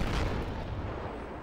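Dense, continuous gunfire and booms from the tank combat game Armored Warfare, loud and close, filling the whole moment with rumbling blasts and no pause.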